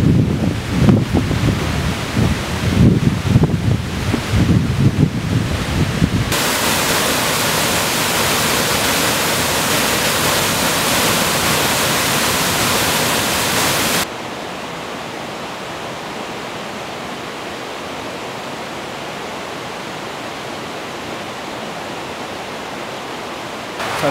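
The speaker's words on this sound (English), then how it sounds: "I'm almost on the top of that waterfall that you saw earlier" A mountain waterfall on a Sierra Nevada backpacking trail roars as a steady broadband rush, loud and near at first, then drops to a softer, more distant wash partway through, with wind buffeting and no talking.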